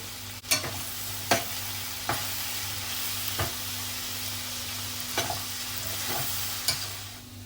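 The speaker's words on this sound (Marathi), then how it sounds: "भेंडीची भाजी आपण मिक्स करूया" Okra bhaji being stirred in a pan, a spatula scraping and clacking in a handful of separate strokes over a soft continuous sizzle, close by with no voices.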